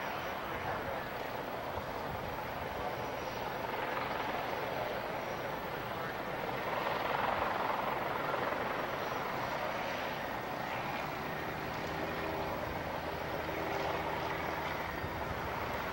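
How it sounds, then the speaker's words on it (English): Boeing B-29 bomber taking off, a broad steady roar of radial piston engines and propellers that swells slightly mid-clip and holds loud throughout, with no voices over it. "we're going to see this B-29, Fifi, the only flying B-29 in the world,"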